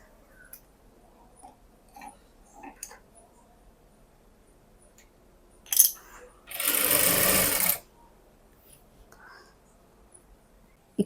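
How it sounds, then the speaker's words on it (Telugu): A sewing machine runs one short burst of about a second, stitching a blouse seam straight to the end, with faint clicks and handling noises scattered around it. "సో చివరి వరకు కూడా స్ట్రైట్గా స్టిచ్ వేసుకోవాలి"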